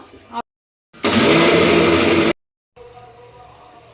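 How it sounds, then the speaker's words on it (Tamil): Wet grinder grinding soaked red rice for puttu, a loud, broad whirring roar that starts abruptly, runs for about a second and a half, then stops, with quieter kitchen noise before and after. "பன்னெண்டு மணி நேரம் ஊறிடுச்சு இப்போ அரைச்சிக்கிட்டு இருக்கிறாங்க"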